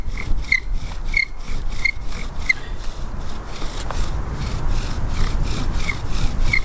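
Bow drill spindle spinning hard in a wooden fireboard outdoors in cold rain, a steady rhythmic sawing rasp with strokes about twice a second, close and continuous over falling rain.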